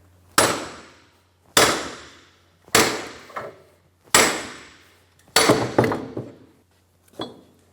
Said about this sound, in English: I'm going to put it on the back side of the hub and then hit that with another hammer